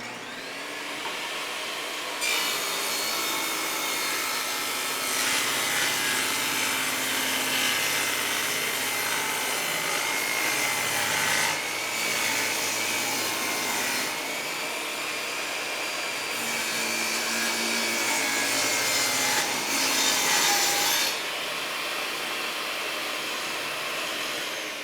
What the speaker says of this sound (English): get ready to make our first angled rip cut on here